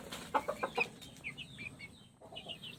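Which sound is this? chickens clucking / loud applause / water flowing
chickens clucking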